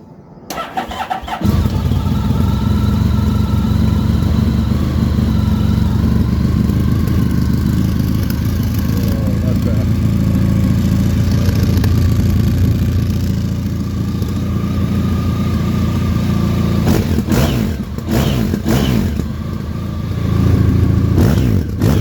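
A motorcycle fitted with a Scorpion race can exhaust cranks and fires up, then runs at a loud, steady idle with a rough, throaty burble, revving slightly near the end.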